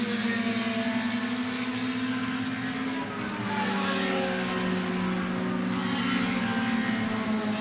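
A Lola T70 race car, an Althoff Racing entry, drives at steady high speed on a track at an SVRA vintage race at VIR, its engine a loud continuous drone with a slight dip midway and no talk.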